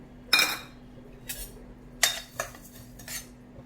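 Cumin seeds are dry-roasted in a pan while a spatula stirs them. Five separate close scrapes and clinks of metal against the pan come at uneven intervals, with quiet between them and no speech.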